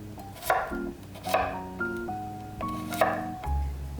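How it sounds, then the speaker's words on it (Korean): Knife chopping garlic into thirds and slicing red and green chili peppers on a cutting board, with a few distinct, close knocks spread unevenly over the short stretch, backed by steady kitchen background noise. "마늘은 3등분 해주세요."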